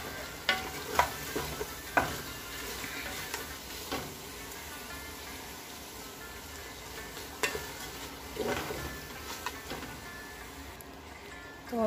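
Half a medium onion fries in a pan for karela gosht, meat with bitter gourd: a quiet, continuous low sizzle with scattered light clicks and stirring scrapes throughout.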